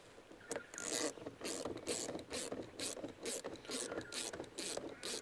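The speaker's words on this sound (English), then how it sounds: "then we can loosen off this clamp here" Repeated ratcheting clicks from a tool loosening the intake pipe clamp on a Toyota LandCruiser 200, close and steady in short rapid bursts with no talking.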